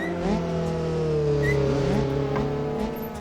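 A Ford Focus sedan engine with a race exhaust in the game BeamNG.drive drones steadily at high revs with a raspy exhaust note, holding a near-constant pitch and slowly rising and falling over a few seconds.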